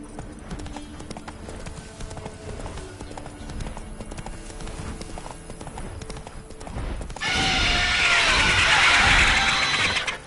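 Game horse Roach from The Witcher III galloping with steady clip-clop hoofbeats, joined near the end by a loud, bright burst of noise, with faint game music underneath.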